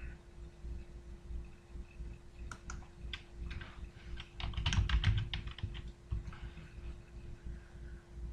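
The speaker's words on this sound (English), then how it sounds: "I'm on YouTube right now and I'm typing in the Maxx." Typing on a computer keyboard to search YouTube, a quiet, close run of quick clicking keystrokes that bunches into a faster burst in the middle over a low electrical hum, with no talking.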